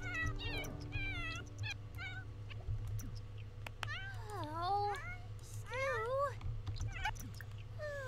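A cat in The Sims video game meows over and over, in short clipped calls at first and then longer, wavering cries, close and clear over a low steady hum.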